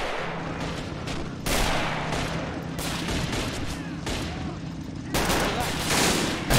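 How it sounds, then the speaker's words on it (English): Tank cannon fire aimed at an IS-2 tank in a video game, with loud booming shots and sustained battle noise, a voice talking over the action. "Let's get a shot on that IS-2"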